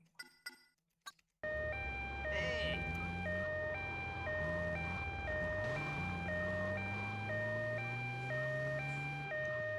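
A loud in-game ambulance siren wails with a steady two-tone cycle in GTA Vice City Stories on PS2, sustained after a brief burst of other game sounds, with a rising engine tone underneath.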